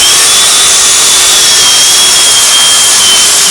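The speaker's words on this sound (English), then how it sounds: "Very, very useful little sanding tool, and it gets into those rounded edges" A small power sanding tool whines steadily against a walnut eel carving, a loud, continuous high-pitched buzz with a faint pitch line, unbroken and without pauses.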